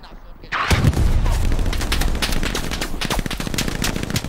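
MG42 machine gun fire rattles in a Stalingrad-set war video game, long rapid bursts of gunfire with dense sharp reports, loud and continuous after a quiet start, mixed with other battle noise.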